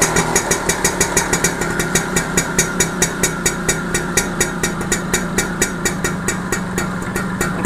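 A TVS XL Super Heavy Duty moped engine idles steadily after carburetor tuning, a loud, close, even putter of rapid regular firing pulses holding a constant speed throughout with no talk.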